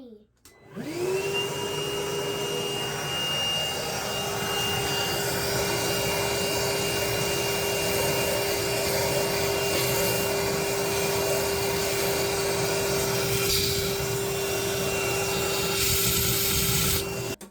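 A wet vacuum motor starts up and whines steadily for the whole stretch, loud and close, with a high sustained tone over a rushing airflow.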